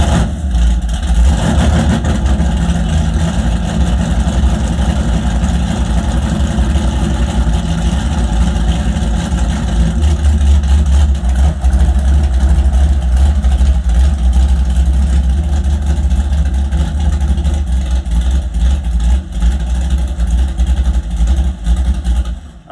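Camaro V8 engine idling steadily and loud after the ignition timing was set with the distributor locked out, a continuous low rumble with no revving throughout.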